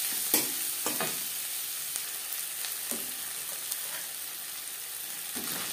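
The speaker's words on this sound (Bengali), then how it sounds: "পেঁয়াজ ভাজা হয়ে গেছে।" Onions fry in a pan with a continuous soft sizzle, broken every second or so by the scrape and clatter of a spoon stirring them, close and alone without talk.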